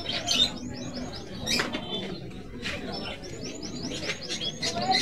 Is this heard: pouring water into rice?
no